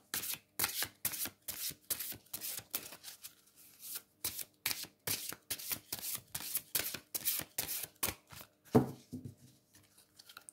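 Tarot cards dealt one by one onto several piles, giving a quick run of crisp slaps and flicks close up, steady in rhythm with brief pauses between bursts, no talk.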